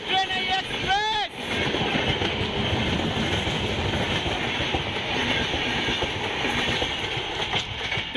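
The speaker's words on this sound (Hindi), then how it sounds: "ट्रेन निकल ली भाई" An express train rumbles past close by on Indian Railways with a steady rolling clatter and a brief horn-like tone near the start, loud and continuous.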